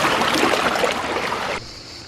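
Black Sea waves wash over the shore close by, a frothy splash and rush of water that spreads and fizzes, then drops abruptly to a quieter wet hiss near the end.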